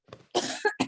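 A single person coughs, with a brief throat sound first and then a rough burst that breaks into two or three quick coughing pulses, close and isolated.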